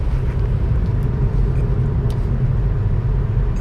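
A 2009 Audi A3 cruises along a bumpy road, its cabin filled with a constant heavy low rumble of engine and tires, dense and unbroken, with no speech.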